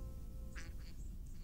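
Ducks quacking in a video game, several short bright quacks spaced through the moment over a steady low game background hum.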